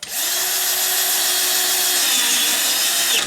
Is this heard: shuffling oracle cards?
no